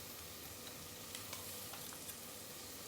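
Garlic frying in a hot pan gives a steady close sizzle with light crackles and a few faint ticks, with no voices over it.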